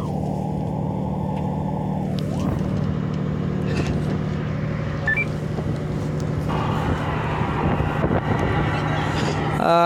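A motorboat carries passengers from Rameswaram to Katchatheevu, its engine a continuous loud droning hum with water rush and a brief electronic tone, steady and close throughout.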